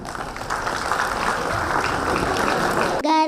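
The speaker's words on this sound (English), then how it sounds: "Big round of applause" Crowd applause from an audience at a young children's school event, a steady dense clapping wash lasting a few seconds before cutting off abruptly.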